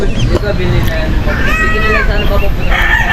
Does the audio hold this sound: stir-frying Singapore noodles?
no